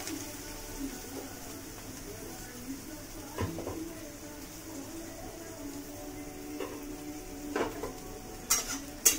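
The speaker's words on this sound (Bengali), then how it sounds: "তেলটা গরম হয়ে গেছে। তেলটা আমি সয়াবিনগুলো তুলে দিচ্ছি।" Soya chunks dropped into hot oil for a vegetarian Mughlai paratha filling, a quiet steady sizzle with occasional soft clinks of utensils against the pan toward the end.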